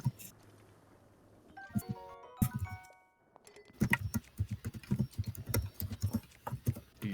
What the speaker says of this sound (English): Are you typing on a toilet?